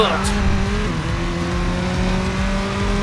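A racing-game car in Racing Master brakes and slides into a drift, its engine droning steadily with a faint tire squeal.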